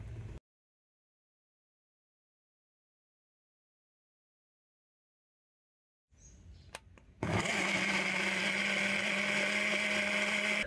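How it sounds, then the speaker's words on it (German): A smoothie blender mixes fresh hollowed-out pineapple, starting after a long silence with a short buzz and then roaring loudly and steadily for several seconds at close range. "die wird jetzt ausgehöhlt, im Smoothie-Mixer gemixt"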